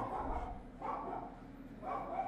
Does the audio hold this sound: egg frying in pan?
no